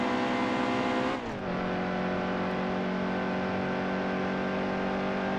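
A stock car engine in NASCAR Heat 2 holds a loud, steady high-revving drone, with a brief dip and shift in pitch like a gear change near the start.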